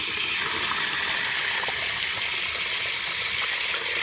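Water gushes from a washing machine supply hose into a bucket to purge air from the line, a loud, constant rushing splash that holds steady from start to finish.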